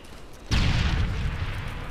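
A single sudden blast from a stun grenade in Modern Warfare 3, a sharp broadband bang followed by a sustained rumbling, ringing decay lasting over a second, close and loud with no talk.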